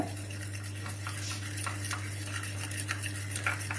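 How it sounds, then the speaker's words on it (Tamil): A cleaning mixture for a gas stove is stirred in a container, making soft irregular scraping and clinking over a steady low hum, close and fairly quiet, without speech. "ஜஸ்ட் இதில் வந்து ஒரு மிக்சிங் கொடுத்துக்கோங்க, அதாவது நல்லா மிக்ஸ் பண்ணிக்கோங்க."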